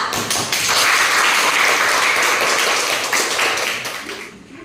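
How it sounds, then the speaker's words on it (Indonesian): A classroom group claps together for a presenting student team, dense steady applause that holds for several seconds and then tapers off, with faint voices underneath. "Kita beri aplaus untuk kelompok 2"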